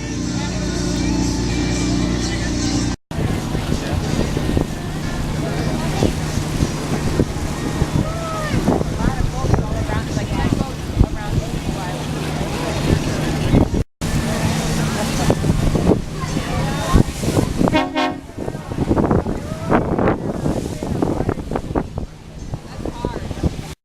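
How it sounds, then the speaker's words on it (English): A big boat's motor drones close by over rushing water and heavy wind buffeting on Lake George, passing through a narrow channel, loud and continuous, with people talking now and then. "Look at this big boat goes through this little narrow area here."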